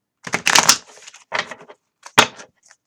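Quick bursts of cards being riffled and shuffled, a few crisp flurries with short pauses between them, close up.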